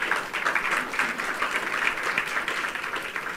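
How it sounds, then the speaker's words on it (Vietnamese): A church congregation claps together in steady, sustained applause to thank God during a Vietnamese Protestant sermon, a dense even patter filling the room throughout with no pauses. "Hãy cùng tôi vỗ tay cảm ơn Chúa đi nè."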